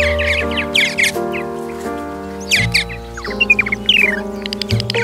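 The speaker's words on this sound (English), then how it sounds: "As for its call, it is a chirp-like repetitive sound." Purple martin calls: repeated quick, high chirps in short bursts, fairly clear but sounding over steady background music tones.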